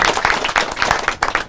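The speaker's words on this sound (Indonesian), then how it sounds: "Boleh kita kasih tepuk tangan dulu buat bupati kita" An audience at an inspirational talk event gives a short, loud burst of applause for the regent, with choppy, uneven clapping close by.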